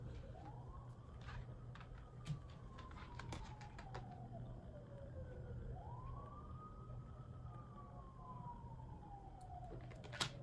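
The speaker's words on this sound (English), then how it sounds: "you hear them how loud them sirens is?" Emergency vehicle sirens wail in long rising and falling sweeps over steady background noise, continuing through the whole stretch at moderate distance with no talking.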